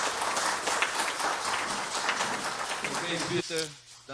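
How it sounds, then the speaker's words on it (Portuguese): A steady wash of applause from a conference audience fills most of the moment, then a voice starts speaking as the clapping dies down. "Algum aplauso?"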